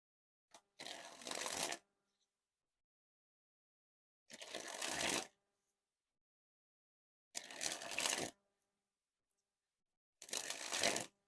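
Theory11 Madison Players playing cards being sprung from hand to hand, four short bursts of rapid fluttering riffles, each about a second long, separated by silent pauses, close and crisp.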